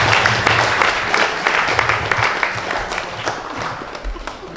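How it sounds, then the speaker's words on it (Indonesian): Festival audience clapping at a school launch celebrating traditional culture, a steady dense patter of hands filling the whole stretch at a fairly loud level with low background rumble. "Kita beri tepuk tangan yang meriah."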